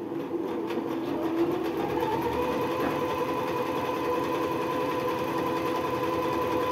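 Jaguar KY-001P sewing machine running a zigzag stitch, a steady close mechanical whir with a rhythmic needle clatter that continues without pause.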